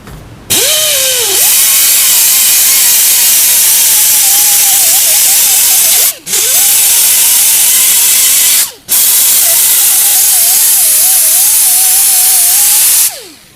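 Loud, steady hissing of compressed air rushing through a tool in three long blasts separated by brief pauses, close up.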